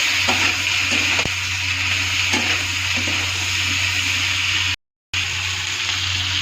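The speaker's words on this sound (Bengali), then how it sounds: "আলু ছেড়ে দিয়েছি, এখন সামান্য হলুদ ছেড়ে দেবো, হাফ চা চামচ দিয়ে ভালো করে মিক্স করবো" Potatoes sizzle and fry in a pan as turmeric is stirred in, a steady broadband hiss with occasional scraping stir strokes, close and continuous with a brief dropout near the end.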